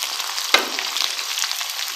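Two medium onions dropped into hot oil for a beef keema karahi, a sharp hit as they land and then a bright, crackling sizzle that keeps on steadily, close and fairly loud.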